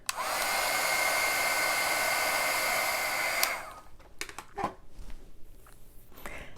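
A heat embossing tool blows hot air over embossing powder on paper, a steady loud whirring blast for about three and a half seconds, then it switches off, leaving scattered light handling clicks and rustles.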